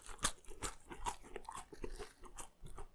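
Crunchy bites and steady chewing of a meal of ribs and fries, close to the mic, with repeated crisp crunches spread through the few seconds and no talking.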